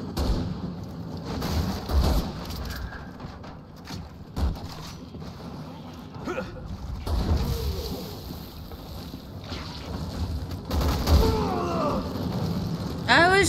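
Gunfire in Resident Evil 6 during co-op play, sharp broadband bursts scattered across the passage amid game ambience, with players talking over it.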